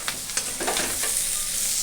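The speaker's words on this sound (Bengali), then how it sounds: "ভাজা হচ্ছে।" Bitter gourd, eggplant and potato fry in oil, a soft steady sizzle with a few stirring scrapes and clicks near the start, fairly quiet and close.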